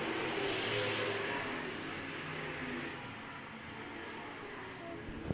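Pro stock race cars roar past on an oval track, a dense continuous engine drone from a pack running close together, loud and steady before easing slightly as they move away.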